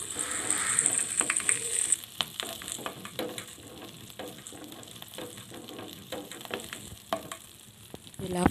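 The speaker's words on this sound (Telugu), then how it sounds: "వేసుకొని కొంచెం బాగా ఫ్రై అవ్వనివ్వాలి." Red and green chilies fry in oil for tomato chutney, giving a close, crackling sizzle broken by a series of sharp stirring scrapes in the pan, with no talking.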